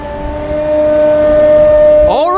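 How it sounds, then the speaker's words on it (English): A MAN TGS 51.500 concrete pump truck drones with a loud, steady tonal whine from its hydraulic rams pumping, a low engine rumble beneath, and a sharp pitch shift and clunk near the end. "They're the hydraulic rams pushing it."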